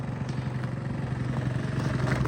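Small Honda Dio AF-35 scooter engine idling, a steady buzzing putter with a fine rapid rhythm, close and even throughout.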